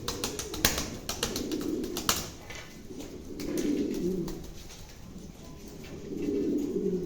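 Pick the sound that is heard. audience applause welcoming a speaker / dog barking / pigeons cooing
pigeons cooing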